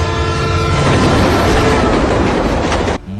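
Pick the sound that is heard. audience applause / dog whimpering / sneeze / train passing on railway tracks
train passing on railway tracks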